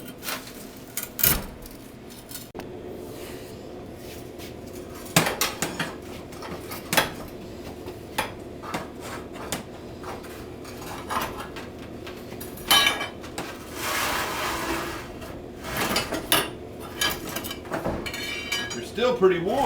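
A homemade flattened-pipe pry bar works under still-warm pizza oven stones, giving a run of scraping clanks and sharp metallic knocks, loud and close, with handling noise between strikes.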